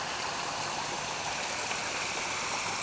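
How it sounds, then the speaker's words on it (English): A waterfall on a trail at Plotterkill gives a steady, full rushing roar of falling water with no other sounds. "And right down there is another waterfall"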